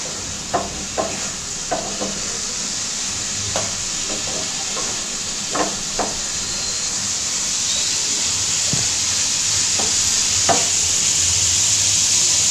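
Lentils (dal) simmer in a pot on a home stove, a continuous bubbling hiss with scattered soft pops and clicks, close by and steady.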